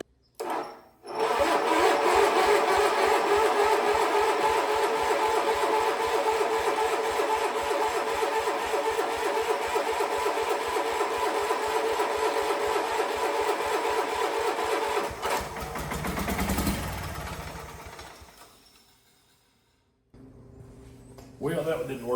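An old Wheel Horse lawn tractor engine cranks steadily on the starter after priming, with a fast rhythmic chugging for about fourteen seconds that does not catch, then sputters, falls silent and briefly starts cranking again.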